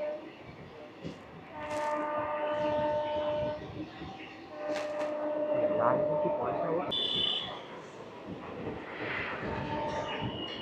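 An empty train rake rolls on the line from Krishnanagar to Amghata, its rumble and rail noise running continuously with horn-like tonal blasts sounding several times, while people talk over it throughout.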